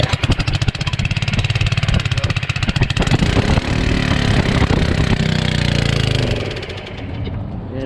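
A rusty pressure washer's small gasoline engine runs loud and close with a rapid, chattering firing rhythm, then settles into a smoother, steady drone whose pitch sags slightly near the end.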